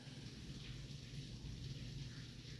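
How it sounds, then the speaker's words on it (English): Heavy rain pours steadily, a dense, constant hiss with a low rumbling undertone, loud and unbroken with no voices. "yeah, it's raining. It's hard raining too"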